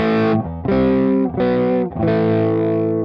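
Four ringing distorted electric guitar chords played on the neck pickup with the tone knob turned all the way down, a dark, muffled tone, each held for under a second and separated by brief gaps.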